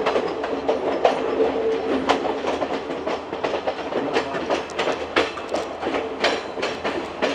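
Train running on rails through hills between Kandy and Colombo, Sri Lanka, with steady rumble and repeated clickety-clack of wheels over rail joints, close and continuous throughout.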